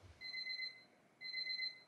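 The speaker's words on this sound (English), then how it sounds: "my alarm clock was going off" An alarm clock beeps in two sustained electronic tones, each lasting close to half a second with a pause between, fairly faint and alone.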